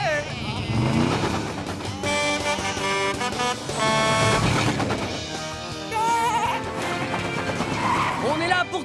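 A lamb in a French animated children's cartoon, Blaze and the Monster Machines, bleats repeatedly in high wavering cries amid cheerful dialogue, music and vehicle sounds.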